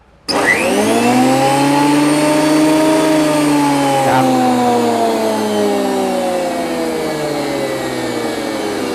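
Wood planer with an automatic dust-collector vacuum, planing long boards of old teng hardwood: a loud, steady motor whine starts abruptly and drones without a break, with a brief word spoken over it.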